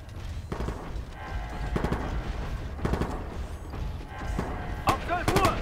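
Bursts of game gunfire in Ghost Recon Future Soldier, several clustered volleys of rapid shots spread across the moment, with talk and game noise underneath.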